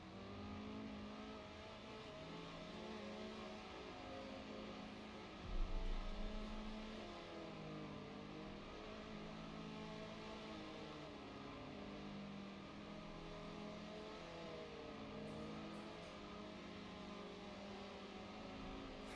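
A Formula Ford race car engine in a sim racing game drones and revs steadily as it spins through donuts, with one sharp loud burst partway, continuous and close with no talk.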